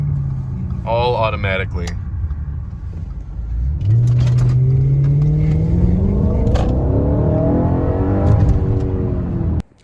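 A stock Audi RS5 downshifts and revs while pulling up to a stoplight. Someone talks briefly, then the engine rises in a loud, climbing rev that holds and wavers before cutting off abruptly.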